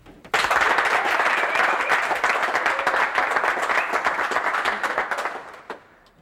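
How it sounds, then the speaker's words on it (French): An audience bursts into dense, loud applause for a Gabonese musician, which holds steady for several seconds before tapering off near the end. "je voudrais que vous applaudissiez très très fort pour lui"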